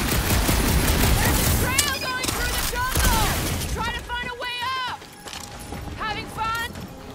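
Dense, rapid gunfire and blasts fill a sci-fi shooter game, Guardians of the Galaxy, continuing loud and close under overlapping voices and chirpy electronic effects.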